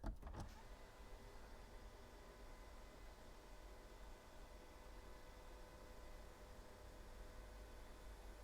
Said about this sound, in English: let's press the sunroof closed